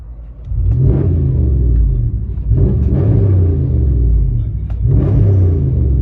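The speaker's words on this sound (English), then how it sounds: "we just did a muffler delete on it. I want you guys to hear it from the inside." Heard from inside the cab, a Ram 1500 pickup's 5.7L HEMI V8 with a muffler delete rumbles deeply, swelling in three loud revving surges over a steady throaty idle.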